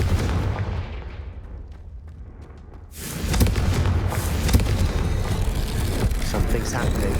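A Confringo blasting curse erupts in the Hogwarts Legacy video game, a sudden loud fiery explosion bursting in at about three seconds after a quieter rumbling stretch, followed by sustained crackling, booming debris and roar that stays dense to the end.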